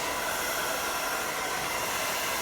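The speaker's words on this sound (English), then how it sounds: "Then, of course, we want to cut our blow dryer on." A handheld blow dryer runs continuously during heat detangling of curly hair, a steady loud broadband whoosh that stays even throughout, with no talking.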